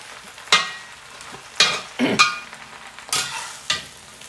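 Fresh spinach stir-frying in a cast iron pan, with a steady sizzle under several sharp scraping stirs of a utensil spaced through the clip, near and moderately loud.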